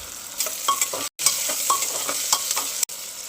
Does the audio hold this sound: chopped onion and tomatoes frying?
yes